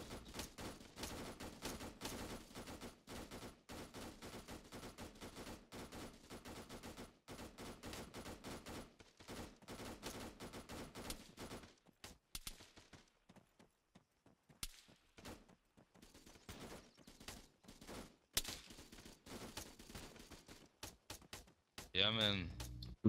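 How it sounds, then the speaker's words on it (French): Gunfire in the Arma 3 video game: sustained rapid automatic bursts fill the first half, then scattered shots and short volleys follow, with players talking over the shooting. "On tire en avançant"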